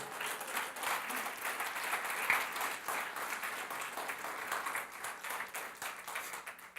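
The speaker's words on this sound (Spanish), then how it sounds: "Denle un aplauso al Señor, aleluya." A church congregation applauds steadily throughout, a dense, sustained wash of clapping from many hands at moderate volume with no one speaking over it.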